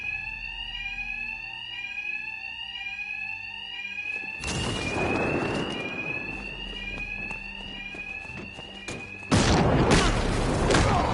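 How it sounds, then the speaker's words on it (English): Fire alarm ringing inside Batman: Arkham Knight, a steady repeating electronic tone that continues throughout, with loud crashing thuds of combat breaking in twice over it. "Two-Face's thugs won't hear me over the alarm."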